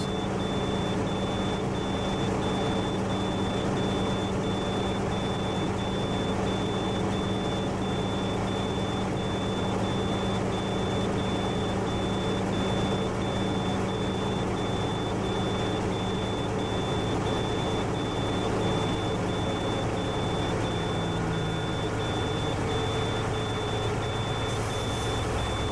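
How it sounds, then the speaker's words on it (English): Inside a truck cab during a CDL air brake test, a low air pressure warning buzzer drones steadily and continuously, a constant tone sustained over the running engine with no talk. "Buzzer went off as I hit 60 psi."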